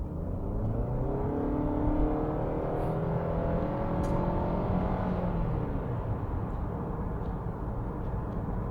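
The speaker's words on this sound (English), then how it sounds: "I'm going to floor it, and you can hear the sweet sounds of a Nissan X Trail." A 2020 Nissan X-Trail Ti engine at full throttle up a highway on-ramp, a steady, loud droning rise in pitch as the revs climb, heard from inside the cabin with no talking.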